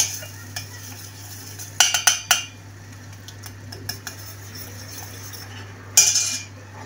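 A utensil stirs and scrapes butter melting in a pot for béchamel, with clinking metal taps against the pot in small clusters over a quiet background hum, no talking.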